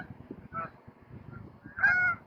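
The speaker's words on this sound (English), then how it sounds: "the 2 geese, I'm sure you can hear them off in the background." Two geese honk off in the distance outdoors, a short faint call around the middle and a louder, drawn-out honk near the end, with no talk over them.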